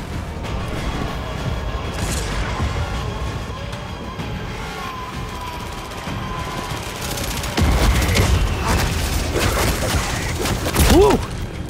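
Mortar strike landing in Call of Duty Zombies: a dense rumble of repeated booms and crackling gunfire goes on throughout, swelling into heavier impacts in the last few seconds, with a voice talking over the din.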